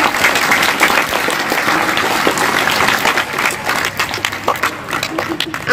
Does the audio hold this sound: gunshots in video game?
no